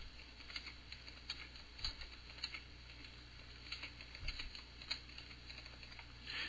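Soft, rapid keystrokes on a computer keyboard while typing into a word processor, an irregular light patter heard alone and fairly quiet.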